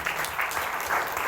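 Audience applause at a Tamil speech event, a dense wash of many hands clapping steadily for a brief moment, fairly loud with no speech over it.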